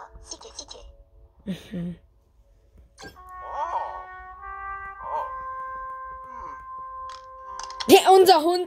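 Dog barking and howling in the Luigi's Mansion 3 video game, short yelps early on, then sustained tonal howls and a louder burst of barking at the end, amid game chimes and tones.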